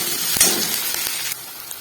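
Chopped onions, ginger, garlic and green chillies frying in a pan while a curry is cooked, giving a soft, continuous sizzling hiss with a few brief louder crackles and no talking.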